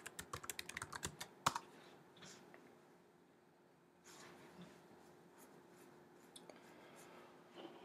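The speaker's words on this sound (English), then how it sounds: "Put in your affiliate username and password." Computer keys clatter in a quick burst of typing, close and crisp for about a second and a half, then give way to faint, sparse clicks and quiet room tone.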